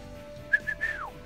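A person tries to whistle, producing three short, thin whistled notes in quick succession, the last one stretching out and sliding downward, heard up close over a faint steady hum.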